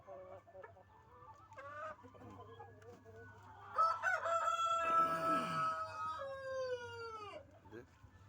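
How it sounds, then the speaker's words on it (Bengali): Tiger chickens cluck in short bursts at close range before a rooster lets out a loud, drawn-out crow, with some quiet talking in the background. "এই যে এটা হচ্ছে অরিজিনাল টাইগার মুরগি"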